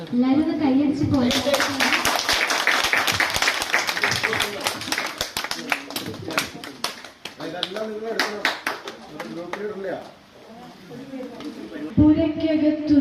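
An audience at a family celebration, a church gathering, claps hands together in a steady, fast rhythm for several seconds beneath a singing and speaking voice, loud and close, then the clapping fades out.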